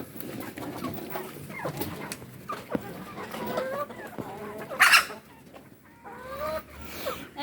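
Egg-laying hens cluck and coo close by in a domestic yard, in repeated short calls with one louder burst partway through.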